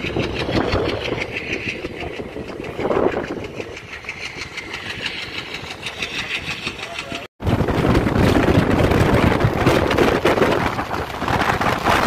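A Suratgarh–Sri Ganganagar passenger train pulls out of Dalpat Singhpur station and runs on, giving a steady, loud rolling rumble from on board that drops out for a split second midway, then resumes even stronger.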